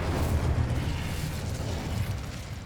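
Incendio fire spell going off in Hogwarts Legacy, a loud sustained whooshing, roaring burst with heavy low rumble and crackle that slowly tapers over a few seconds.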